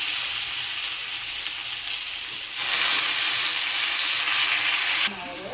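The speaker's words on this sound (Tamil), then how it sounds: "நல்லா இந்த வெங்காயம் வந்து நல்லா வதங்கணும்" Onions with fennel and whole spices such as cinnamon, cloves and star anise sizzle steadily in hot oil in a pan, with a louder frying burst midway and occasional stirring.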